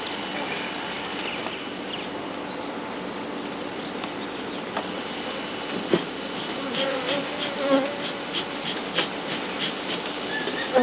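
A steady, dense buzz of honeybees around an open hive during a July inspection and mite wash, continuous throughout with a few faint knocks and handling sounds.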